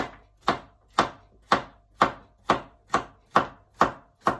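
A knife chopping cucumber into small squares on a board, nine crisp evenly spaced cuts at about two per second, close and clear with no talking.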